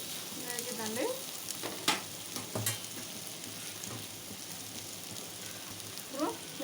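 Garlic sizzles and crackles steadily in a hot pan for an ivy gourd fry, a close, continuous frying hiss with a few sharper pops and spoon scrapes.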